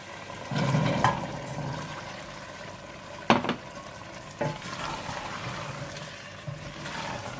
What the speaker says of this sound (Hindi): और चने डालकर अच्छी तरह से भून लें।